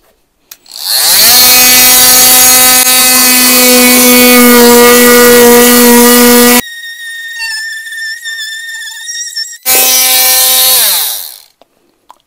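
An Einhell VARRITO cordless oscillating multi-tool cuts through a thick piece of material, giving a loud, steady high-pitched buzzing whine with a brief lighter-load pause before the full cut resumes and stops.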